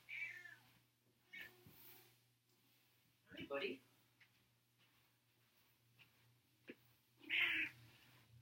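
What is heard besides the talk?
cat meowing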